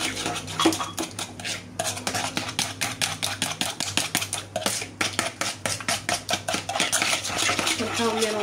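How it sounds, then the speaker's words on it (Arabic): Cupcake batter with oil is whisked in a bowl, rapid rhythmic clinking and scraping of utensil against the bowl, close and fairly loud, sometimes pausing briefly, with no talk. "نحاول نرونجي مزيان الخليط ديالي."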